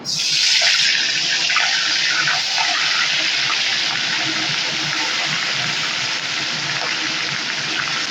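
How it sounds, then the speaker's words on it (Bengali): Prawns dropped into hot oil for a Bengali coconut prawn dish sizzle in a loud, steady hiss that runs unbroken for several seconds, close and bright. "তেলটা কিন্তু গরম হয়ে গেছে আমি এখন মাছগুলোকে দিয়ে দেব"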